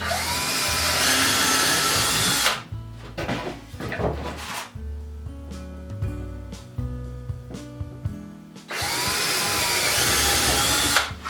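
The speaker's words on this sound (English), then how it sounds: "I'm going to use this 3/16 drill bit to drill pilot holes in the 1x4" An electric drill with a 3/16 bit drilling pilot holes in a 1x4 board whirs loudly up close in two long runs, with clattering and handling noises between them.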